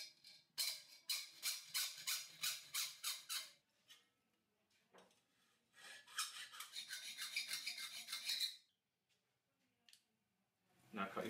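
A saw blade cuts a 30mm steel flange held in a vise, with rapid, rhythmic rasping strokes in two separate runs and a brief pause between them.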